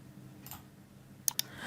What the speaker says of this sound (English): Okay, now clicking on schedule send